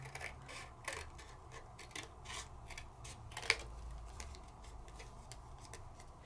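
Scissors snipping through paper during papercraft embellishment work, a quiet run of regular close clicking cuts with one sharper snip midway, no voices.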